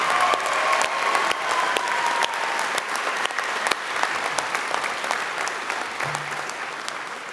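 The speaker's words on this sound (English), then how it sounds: "So please give them a good round of applause as well." A graduation ceremony audience applauds the musicians, with sustained crowd clapping and some distinct close individual claps, gradually tapering slightly toward the end.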